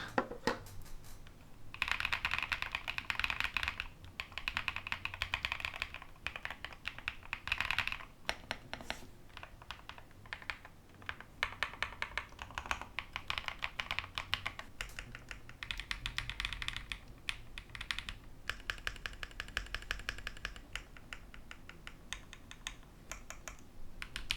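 Rapid clicky keystrokes on a mechanical keyboard, close and crisp, with uneven bursts and brief pauses, no talking.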